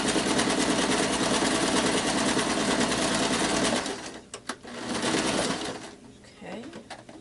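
A sewing machine rapidly stitches a fabric pot holder with a fast, even mechanical chatter for several seconds, then stops, leaving a few scattered clicks and handling sounds.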